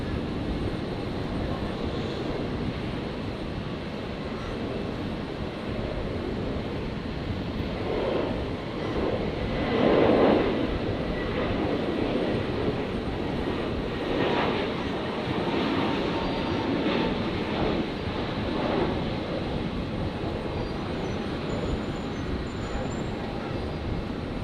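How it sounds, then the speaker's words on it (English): Air New Zealand Airbus A321neo jet beginning its takeoff roll at Brisbane Airport, bound for Auckland, heard as a broad, steady engine roar at a distance that swells slightly partway through. "New Zealand's 321 Neo has just started rolling"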